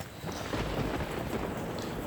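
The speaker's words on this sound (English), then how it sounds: "This storm has not let up." Steady heavy rain pours throughout a thunderstorm with low rumbling thunder underneath, a dense continuous wash of sound that never lets up.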